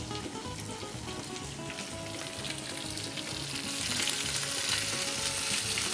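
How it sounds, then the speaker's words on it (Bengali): Garlic paste fries in hot oil with a dense, continuous sizzle, close and fairly loud, growing slightly more intense toward the end. "আরো একটু রসুন বাটা তেলের মধ্যে দেওয়া হচ্ছে।"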